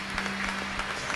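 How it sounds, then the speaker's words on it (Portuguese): A church congregation applauds, a dense and steady patter of many hands clapping that fills the brief moment, with no speech over it. "Aplauda ao Senhor bem forte."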